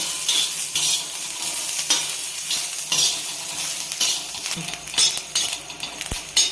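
Grated fresh coconut roasting in a little oil in a pan, stirred with a utensil: a steady, fairly loud sizzle with repeated scraping and clinking strokes against the metal, and no voices.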